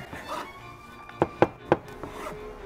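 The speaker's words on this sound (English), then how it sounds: "I'm gonna take the garlic, I'm gonna chop them up nice and thin" A knife thinly chopping garlic cloves on a wooden cutting board in a home kitchen, three crisp close taps in quick succession after a little soft scraping and rustle.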